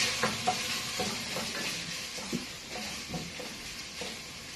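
Chopped onions sizzle in a hot pan while a spoon stirs them, a constant frying hiss broken by regular scraping knocks against the pan, close and steady with no talking.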